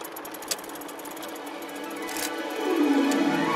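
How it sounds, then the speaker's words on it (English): A hand-cranked brass difference engine built by Charles Babbage runs with a steady mechanical rattle of turning wheels and gears. It grows a little louder and gains a rising whir toward the end. "Charles Babbage turned the hand crank, and the entire machine came alive."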